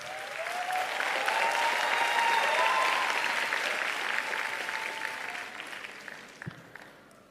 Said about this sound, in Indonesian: mari kita berikan tepuk tangan yang meriah kepada Ketua KPU Pak Hasyim Asyari.